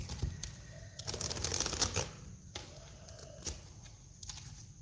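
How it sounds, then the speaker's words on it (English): Rider-Waite-Smith tarot deck shuffled one-handed, giving soft papery riffles and clicks in uneven bursts, fairly faint and close, with short pauses between. "I'm trying to shuffle with one hand here."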